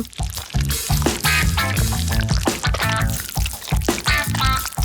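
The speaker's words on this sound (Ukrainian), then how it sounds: "Пюре з ківі переливаємо у пляшку." Thick kiwi puree is poured into a bottle in a cartoon fruit-jelly cooking scene, giving a continuous gurgling, glugging pour with small drips, close and fairly loud, with no talking.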